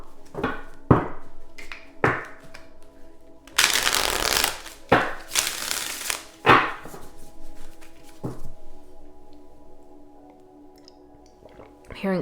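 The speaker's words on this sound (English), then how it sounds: "Two more shuffles for Aquarius spirit guides." Tarot cards shuffled close by in a series of crisp riffling bursts, several short slaps followed by longer dense shuffles, then quieter after; a soft voice is faintly present at times.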